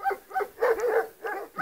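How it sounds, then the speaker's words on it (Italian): Dogs at an alpine pasture bark in several short bursts, a quick pair followed by a longer volley, moderately close with no speech. "Sentite i cani abbaiare perché qua siamo arrivati in un'Alpe."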